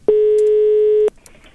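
Telephone signal heard while placing a call to a municipal office, a single steady tone lasting about one second and then cutting off, clear and close.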